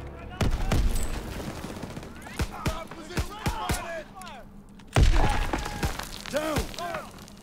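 Gunfire from the Call of Duty: World War 2 campaign, a series of sharp shots in quick bursts with a heavy blast near the middle and echoing tails, over a busy battlefield mix.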